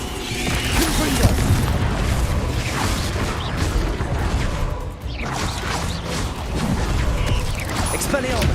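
Hogwarts Legacy combat: the fiery Confringo blasting spell strikes amid dense battle noise, with booms, crashes and mechanical clatter layered continuously and loudly throughout.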